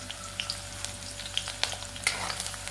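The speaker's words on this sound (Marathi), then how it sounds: "कांदा तळून घ्यायचा आहे हा कांदा तळून झाला की टोमॅटो टाकायचा" Onion frying in a pan for a dhaba-style shev bhaji, a close steady sizzle broken by small crackles and a few light stirring knocks, no voices.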